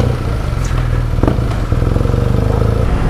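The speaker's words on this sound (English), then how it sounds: "there are a lot of people, lots of motorbikes on it all of a sudden" Motorbikes on a Swiss Alpine mountain pass road, engines throbbing close by with a pulsing mid-range rumble and revving as they ride past, loud and continuous throughout.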